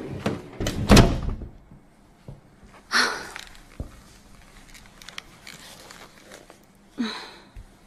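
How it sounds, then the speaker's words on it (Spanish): A door closes indoors in a quiet home scene from a teen drama film, a loud thud near the start followed by a second sharp bump a couple of seconds later and softer knocks after. "¿Cierras la puerta?"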